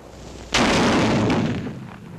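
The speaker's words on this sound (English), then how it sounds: "The 57mm recoilless rifle, also in action for the first time in the Pacific theater" A 57mm recoilless rifle fires a HEAT shell at caves thousands of yards away in the Pacific theater, a single sharp, loud blast that rolls on and slowly fades over about two seconds.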